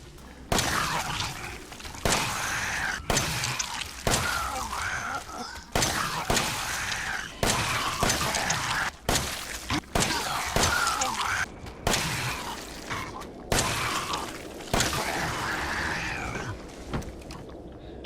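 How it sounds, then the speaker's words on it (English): Repeated Makarov handgun shots fired in the Resident Evil 7 video game, a steady run of sharp cracks roughly every second over a dense, continuous background of game ambience and effects. "the Makarov took a total of 14 shots to defeat a molded"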